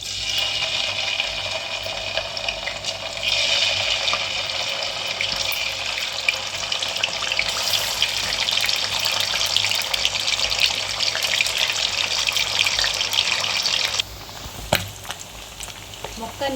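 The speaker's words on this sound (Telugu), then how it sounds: "ఇప్పుడు ఒక్కొక్క ముక్కని ఆయిల్లో వేసేసుకుందాము" Fish pieces deep-fry in hot oil, a dense, loud sizzle that crackles continuously before easing off near the end, with no voices over it.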